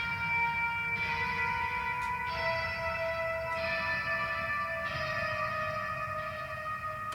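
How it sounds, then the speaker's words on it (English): A spacey clean electric guitar doubles an effected sampled melody for a metal intro, sounding as long, shimmering, bell-like notes that change every second or so over a wash of background noise, with no speech. "And I also double that with a little spacey clean guitar."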